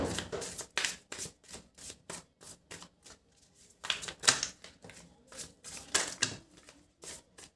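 Tarot cards are shuffled and spread by hand in quick papery riffles and flicks, in bursts separated by short pauses, close up and with no talk.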